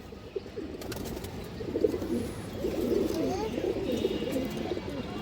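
Female Beji pigeons coo in soft, low, bubbling rolls close by, the calls overlapping and swelling slightly louder toward the end.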